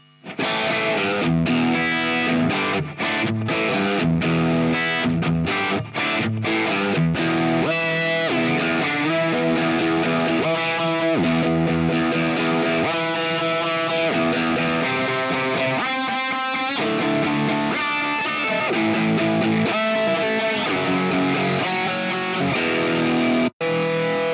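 A Telecaster electric guitar played through an ambient patch on a Zoom G6 multi-effects processor, distorted and washy with chorus-like shimmer, strummed chords and bursts of notes ringing out continuously with no voices.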